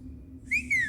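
A single sharp, high whistle from a person rises and holds briefly over a low background hum, loud and close.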